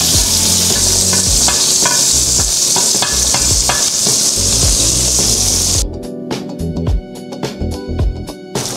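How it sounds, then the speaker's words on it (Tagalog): Butter sizzles and crackles loudly on a hot sizzling plate while shrimp gambas is prepared, with stirring and scraping clatter; the frying hiss drops away abruptly near the end, leaving quieter scattered clinks. "maglagay na rin tayo ng butter sa ating sizzling plate."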